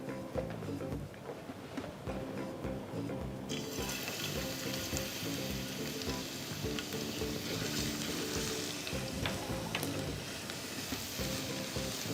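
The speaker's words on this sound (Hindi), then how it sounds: "गार्लिक मैं यहाँ पे स्ट्रेट पैन में डालूंगी और फिर पैन के साथ विल कंटिन्यू कुकिंग इट" Garlic goes into a hot pan for shoyu ramen, a soft sizzle rising after a few seconds and continuing faintly over a low background hum, with occasional light utensil taps.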